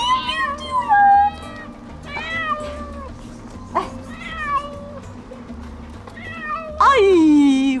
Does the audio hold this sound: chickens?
no